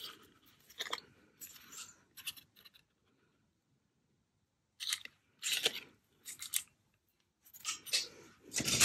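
Scissors snip through paper while making a journal, in several close, crisp bursts of cutting separated by a quiet pause.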